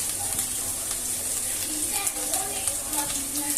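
Mixed spice masala stirred in a hot cooking pan for a rohu fish, potato and pointed gourd curry, with a steady close sizzle and soft scraping of the spoon throughout.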